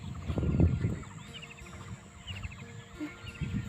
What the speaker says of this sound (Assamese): চৰাইবিলাক ইমান মাতে নহয় বেলেগ একটা ভাল লাগে